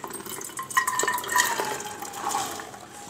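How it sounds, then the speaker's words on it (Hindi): Washed, soaked black chickpeas tumbling into a pressure cooker on a gas stove, a quick wet patter of small rattling hits and splashes over about three seconds, close and alone. "अब मैं सारे चने इसमें डाल दूँगी कुकर में"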